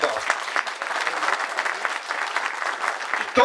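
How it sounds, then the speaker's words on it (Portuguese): A crowd at a rural settlement's victory celebration claps in a dense, steady burst of applause lasting a few seconds, close and lively throughout. "Então uma salva de palmas para o Antônio Tavares e todos nós."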